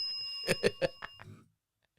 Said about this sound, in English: you hadn't used your cussing bell in a while. Still works, baby.